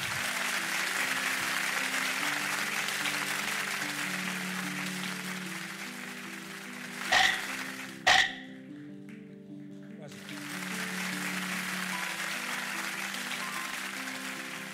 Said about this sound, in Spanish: Un aplauso para la compañera.